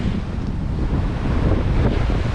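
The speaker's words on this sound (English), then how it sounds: "I wish for the wind, and I got it. I've got 25 knots true." A strong 25-knot wind blows across a sailboat at sea with two reefs in the mainsail, making a loud, continuous roar and buffeting rumble over the wash of the water, with no voices.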